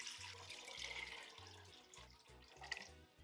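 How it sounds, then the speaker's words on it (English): Tap water running into a large pot being filled for pasta, a steady splashing rush with a low gurgling tone beneath, close by and fairly quiet. "Fill a large pot with water."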